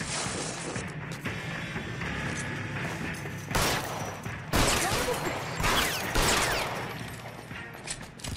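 Gunfire in the L.A. Noire video game, several loud bursts and bangs breaking through a busy background with game voices and speech around them.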